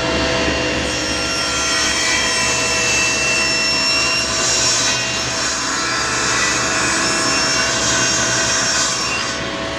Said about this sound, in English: I've tilted my blade to 4 degrees, and I'll just make a series of cuts, adjusting as I go to get the correct wedge that I'm looking for.